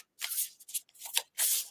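Tarot cards are shuffled up close in several quick, crisp bursts with short gaps between them, quiet and with no voices.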